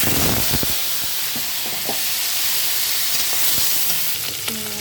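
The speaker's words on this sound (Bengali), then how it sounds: "এর মধ্যে এবার চিংড়ি মাছটা লবণ হলুদ দিয়ে ভেজে নেব।" Prawns coated with salt and turmeric fry in hot oil in a kadai, giving a loud, continuous sizzle and hiss with a few sharp pops and spatters close by and no talking.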